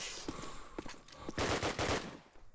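Rapid gunfire from a Valorant esports match, a burst of sharp shots, then a denser volley of close, loud reports near the end, heard alone without voices.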